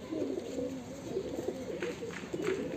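Madrasi pigeons coo softly and repeatedly in a steady low rolling murmur, heard close up over faint background hiss.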